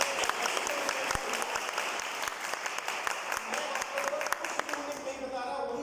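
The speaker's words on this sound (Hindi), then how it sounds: "मतलब ताली तो बजाते यार।" A seated audience claps steadily through a business presentation for a Vestige wealth plan, with dense, continuous applause and individual sharp claps standing out while a voice talks over it.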